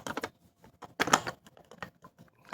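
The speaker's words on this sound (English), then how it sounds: "so when you spin it, it does click" A Proctor Silex food chopper's switch makes a series of small plastic clicks and rattles as it spins, close and moderately quiet, in irregular bursts with brief pauses between.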